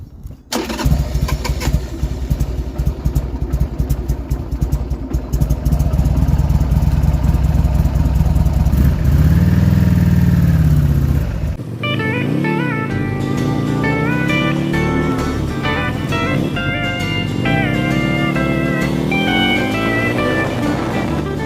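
Motorcycle engine revving loudly during a test ride after repair work, a steady, throaty roar with rising and falling revs, then shifting to a lighter running tone as the bike rolls on, close and continuous throughout.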